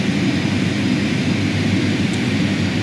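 Twin turboprop engines of a Carenado King Air B200 in MSFS 2020, throttled up slightly to begin taxiing, give a loud, steady low-frequency drone with a broad hiss, unbroken and alone throughout.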